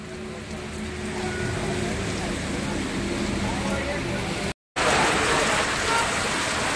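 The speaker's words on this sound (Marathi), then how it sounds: "सर्वत्र आभाळ गच्च भरलेला आहे आणि पावसाचा जोरही वाढत चाललेला आहे।" Heavy rain pours steadily over the countryside near Yavat, a dense, loud broadband roar that breaks off briefly and resumes stronger, with no clear voice over it.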